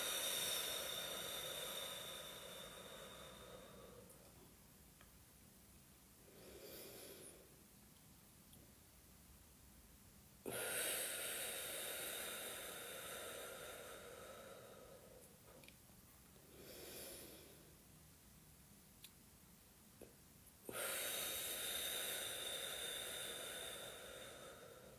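Slow, deep breaths during a face exercise come as long hissy inhalations close to the microphone, three broad breaths spaced several seconds apart with quieter breathing between them.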